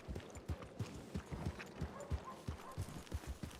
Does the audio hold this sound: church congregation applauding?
no